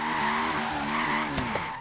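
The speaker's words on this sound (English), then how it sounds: "And now I'm drifting on the sidewalk" A turbo Honda S2000 drifting in Forza Horizon 3, its tyres squealing in a long, loud, continuous screech over the engine drone, with a couple of brief knocks near the end.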